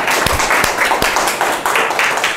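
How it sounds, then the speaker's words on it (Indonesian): A small audience claps at a university lecture event, a dense patter of hands with a few sharper near claps standing out, loud and continuous for a couple of seconds. "Boleh dong tepuk tangan."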